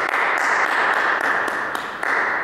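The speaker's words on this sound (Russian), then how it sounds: "Самый громкий, внятный, четкий звук возникает тогда, когда вы вот в эту ямочку, которая у вас находится на ладошке, хлопаете своими пальчиками" Sharp hand claps with the fingers struck into the hollow of the palm, several crisp hollow smacks spaced irregularly over a steady background wash, close and fairly loud.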